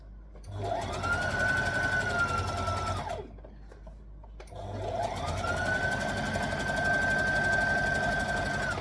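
A sewing machine stitches two back pieces of a tee together in two steady runs with a short pause between, its motor humming at an even pace and close by.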